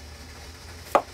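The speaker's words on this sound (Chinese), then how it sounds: "萝卜两头切了，" A single sharp knife cut trims the end off a radish against a board, one brief close knock over quiet room noise.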